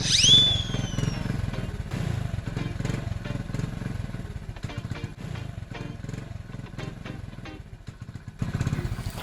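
A motorcycle is ridden, its engine putting along in a steady, fairly close rhythmic drone that swells slightly near the end, with no clear talk over it.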